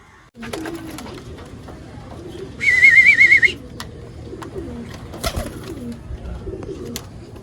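Pigeons coo in low, soft phrases near the listener, with a brief bright electronic whistle partway through and a few sharp clicks.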